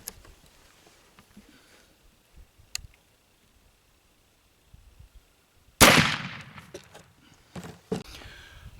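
A black powder rifle fires with a percussion cap: one sharp, loud report, followed by a rolling tail. Faint clicks and handling noises come before it in an otherwise quiet outdoor setting.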